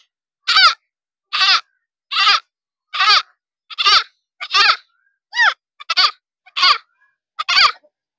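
A boy imitates a goat's bleat about ten times in a row, each short, wavering call loud and close, separated by brief pauses.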